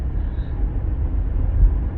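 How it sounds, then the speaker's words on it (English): Low, steady rumble of a 1995 Cadillac Fleetwood Brougham's LT1 350 V8, a broad engine drone filling the low end with a slight swell near the end, no voices. "And the sound, of course, of that LT1, you heard it."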